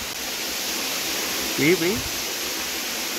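Water rushes strongly into a farm well, giving a steady, close hiss of flow. A short voice cuts in briefly partway through.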